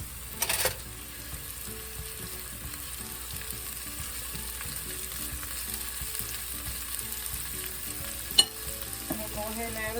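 Chopped onions sizzle quietly in a warm pan, a steady soft crackle running throughout, with a couple of brief clinks and stirring scrapes from a utensil breaking through.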